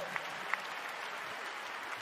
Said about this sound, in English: Can you give those two superstars a big round of applause?